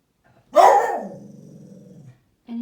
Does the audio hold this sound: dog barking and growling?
yes